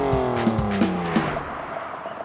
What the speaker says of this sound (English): A quick scoot in the Evo, and Dave's behind the target car.